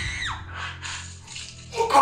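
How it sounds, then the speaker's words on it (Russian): A woman's scream comes through a phone line, thin and tinny with a falling pitch, followed by hissy breathing-like noise and a louder burst near the end. "а потом прозвучал женский крик"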